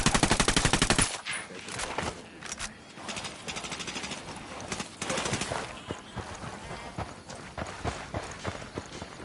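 Gunfire in a PS4 shooter video game: rapid, steady bursts of automatic shots rattle loudly at first, then break into scattered sharp cracks and shorter volleys, with faint voice chatter beneath.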